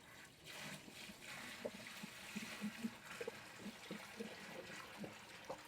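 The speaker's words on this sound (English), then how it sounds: "Now I'm pouring this in the sink." Fish tank water being poured into a kitchen sink, a faint, steady trickling and splashing with small irregular drips and gurgles throughout, heard alone at low level.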